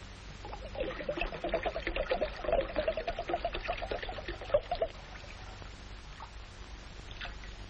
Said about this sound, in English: pour it in the bowl, William.